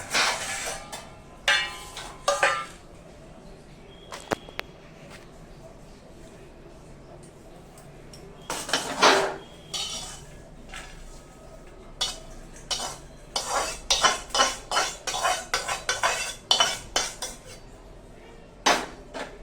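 Roasted coconut is scooped out of a pan into a dish in bursts of scraping and clinking metal, with short quiet gaps, then a rapid run of scrapes near the end.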